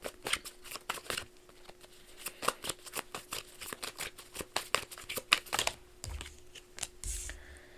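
Tarot cards are shuffled by hand in quick, crisp riffles and taps, a run of sharp clicks in uneven bursts followed by a softer rustle, close and fairly quiet with no talking.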